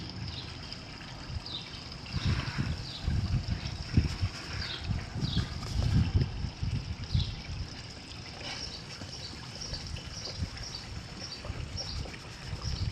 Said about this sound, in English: I'm going to slowly pour it into the skimmer.